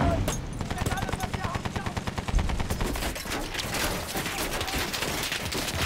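Anti-aircraft gunfire in Battlefield 1 pounds out as a rapid, steady stream of shots close by, with a voice talking over it throughout.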